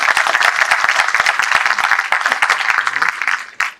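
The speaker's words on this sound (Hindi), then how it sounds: "एक बार जोरदार तालियां हो जाएं इन सभी कलाकारों के लिए।" A theatre audience claps for the cast after a stage performance of Chekhov's play The Proposal, a lively burst of dense, close applause that tapers off near the end.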